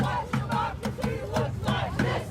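A protest crowd outside the Capitol Building shouts in loud, rhythmic bursts, voices chanting together in repeated close-range cries.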